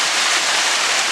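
A waterfall at Mogi das Cruzes, Brazil, gives a loud, steady broadband rush of falling water that holds unchanged through the brief moment, with no voices.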